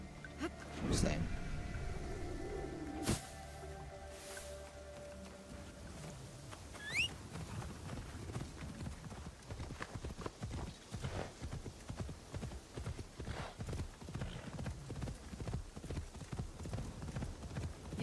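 Horse in the video game Assassin's Creed Shadows, a few early hoof thuds, then rapid rhythmic galloping hoofbeats building and continuing steadily, with a brief cry and a voice speaking over the start.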